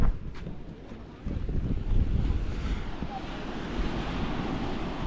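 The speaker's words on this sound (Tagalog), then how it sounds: "May alon pala, no?" Ocean waves wash and surge steadily, with wind buffeting the microphone and a brief faint voice in the background.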